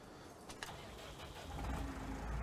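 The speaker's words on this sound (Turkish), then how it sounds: "Motoru çalıştırıyoruz." A farm vehicle engine in Farming Simulator 19 cranks and catches, the rumble swelling into a steady, louder low idle by the end of the short clip, with no talking over it.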